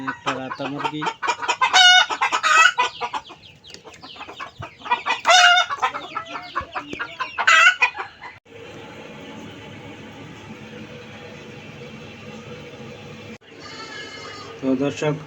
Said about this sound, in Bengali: এখানে আমাদের কিছু দেশি মুরগি ছোট বাচ্চা আছে